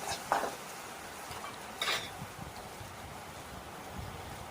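Drumstick leaves sautéing with salt in a pan, a faint steady sizzle broken by a few scraping stirs of a spoon.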